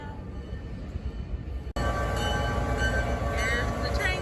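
A train pulls into a small mountain town, a loud continuous rumble and rolling clatter that swells suddenly after a brief cut, with faint squeals near the end.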